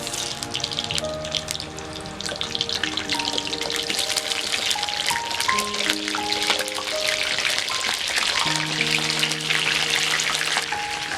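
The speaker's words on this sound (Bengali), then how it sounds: "সবার প্রথমে এখানে আমি আলুগুলোকে ভেজে নেব" Potatoes frying in oil in a wok for a Bengali mutton curry give a continuous crackling sizzle, heard steadily under a melodic background tune with no talking.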